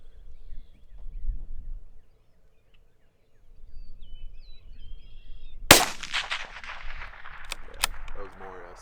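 A Bergara BMR bolt-action rifle in .22 WMR fires a single sharp, loud shot outdoors, with a brief ringing tail, after a quiet stretch of low wind noise.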